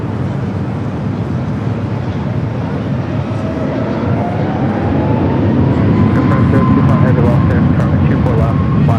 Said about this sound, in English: China Southern 777 arriving there on the south side.